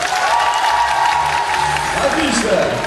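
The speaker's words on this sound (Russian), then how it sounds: "услышите аплодисменты зала" Audience in a hall at a step-aerobics event applauding, steady dense clapping throughout with a brief murmur of voices beneath.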